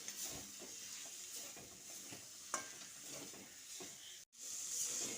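Nate shak greens frying in a pan with a little sugar and a spoonful of poppy seeds, a steady close sizzle with scraping stir strokes and one brief dropout near the end.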